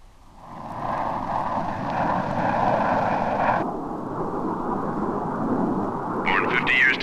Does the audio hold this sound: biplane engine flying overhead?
yes